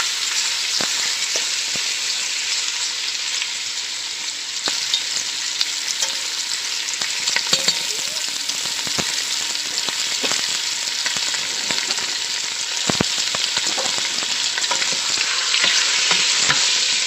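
Pork sirloin steaks browning in a hot pan give a steady, loud frying sizzle that runs throughout, with scattered sharp clicks and spatters from stirring.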